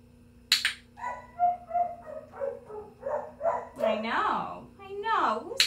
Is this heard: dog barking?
yes